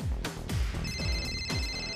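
A telephone rings close by in an indoor scene, a bright electronic ringtone pulsing in quick repeated bursts over a low rhythmic background beat, with no talk.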